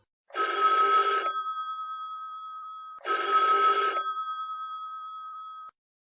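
A telephone bell rings twice in clean electronic bursts, each about a second of trilling followed by a lingering tone, fairly quiet and alone against silence.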